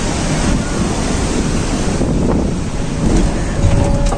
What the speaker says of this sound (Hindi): ये देखिए एक वाटरफॉल आ गया